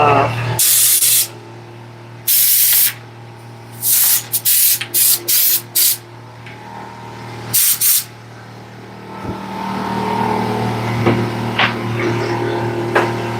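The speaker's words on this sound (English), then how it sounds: "I forgot to blow my bench off anyway." A basement air compressor's blow gun blasts a workbench clean in a series of short, loud hissing bursts of varying length, with a steady compressor hum running underneath and a person speaking near the end.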